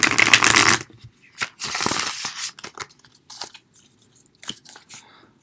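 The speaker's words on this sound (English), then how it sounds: "Just one last shuffle, okay?" Crisp riffling and snapping of tarot cards being shuffled, a long burst followed by several short shuffles and flicks, close up.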